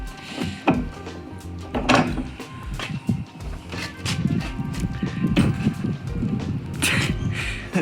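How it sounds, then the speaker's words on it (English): A big, heavy flip-down door on a horse trailer being converted into a mobile bar gives several wooden and metal knocks, thuds and clunks close by as it is handled and lowered. "This is a big flip down door."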